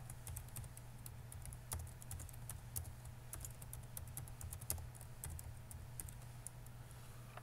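Rapid keystrokes on a computer keyboard while entering figures into an Excel spreadsheet, close and steady, clicking in quick irregular bursts over a low constant hum.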